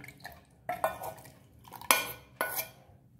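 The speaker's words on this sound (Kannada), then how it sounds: "ಒಂದು ಮಿಕ್ಸಿ ಜಾರ್ ತಕೊಂಡಿದ್ದೇನೆ ಅದಕ್ಕೆ ನಾನು ನೆನೆಸಿಟ್ಕೊಂಡಂತ ಖರ್ಜೂರ ಇದೆಯಲ್ಲ ಅದನ್ನೆಲ್ಲ ಹಾಕೊಳ್ತಾ ಇದ್ದೇನೆ" Soaked dates go into a mixer jar for nutri laddoo, with several clinks and knocks of a spoon against the jar sounding close by in short bursts and no talking.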